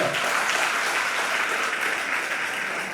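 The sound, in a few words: applause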